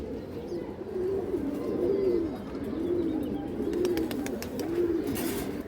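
Restless pigeons, including high-flying breeds, coo in a steady series of rolling, rising-and-falling calls, repeated about once a second at close range over a low background hiss.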